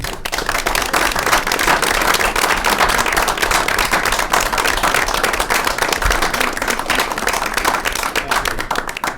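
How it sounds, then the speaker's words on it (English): Attendees at a cable commission board meeting applaud a departing colleague, a loud, dense run of clapping from a room of people that stays strong and steady for the whole stretch. "I think we need to give Al a round of applause."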